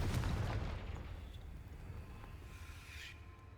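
A Confringo blasting spell goes off in Hogwarts Legacy, a heavy boom at the start that rolls off into a long, fading rumble.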